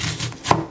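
An onion is diced on a board with a German Hinkle knife: two or three quick, close chopping strokes, soft and brief, with no talking.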